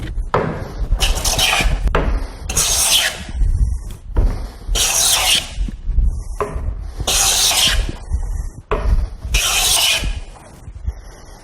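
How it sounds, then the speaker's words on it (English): A joiner plane is pushed along a wooden board in repeated long strokes, each a bright, breathy shaving hiss of about a second, separated by short pauses and clunks as the plane returns, close and loud. "the next tool is the joiner plane"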